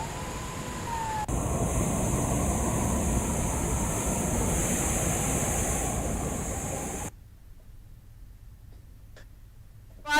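Water rushes out of an opened gate at Bhadbhada Dam in Bhopal, a loud, continuous roar that cuts off abruptly partway through, leaving quieter background noise.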